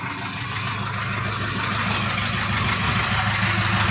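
A Jinma 404 tractor with a 40-horsepower engine idles steadily and close by, a continuous low rumble with a broad noisy hiss above it that holds at an even level throughout, with no talk.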